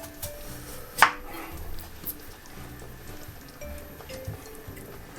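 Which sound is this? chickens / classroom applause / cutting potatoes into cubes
cutting potatoes into cubes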